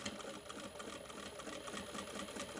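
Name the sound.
sewing machine back stitching bag seam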